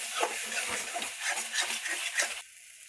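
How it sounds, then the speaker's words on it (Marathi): Red spice masala frying and being stirred in oil, giving a close, steady hiss with soft scraping strokes that drops away near the end. "तांबडं, चांगलं भाजायचं तेलात"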